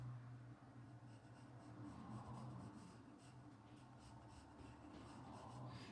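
A pencil scratches lightly across paper in soft, continuous strokes, close and quiet, with a low hum underneath and no talking.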